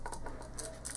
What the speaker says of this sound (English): You want a fairly even amount of clicking all the way around the main gear